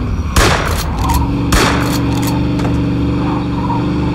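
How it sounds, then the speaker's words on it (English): Gunfire aimed at police in the video game Mafia 2, with two loud broadband blasts close together near the start and a sustained rumbling game soundscape continuing beneath. "Joe, I'm gonna need you to stop shooting at the cops."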